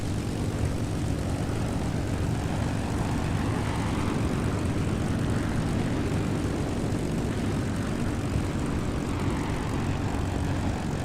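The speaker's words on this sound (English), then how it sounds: "B-29 taxiing up on the runway." A B-29 propeller bomber taxiing on a runway in a flight video game, a continuous loud droning roar of piston engines and airscrews, steady and close with no speech.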